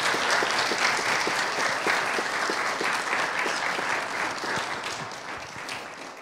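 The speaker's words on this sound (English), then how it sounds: "let's give them a round of applause for all the help they've given" A congregation applauds at a church Christmas concert with steady, sustained clapping that tapers slightly toward the end.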